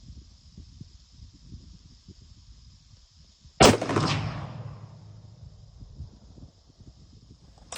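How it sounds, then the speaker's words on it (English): A single loud rifle shot from a factory rifle during zeroing at a range, a sharp blast followed by a rumbling echo that fades over a couple of seconds, with a faint high hum in the background. "Shoot one more right there and we'll let the gun cool and see what we want to do with our zero."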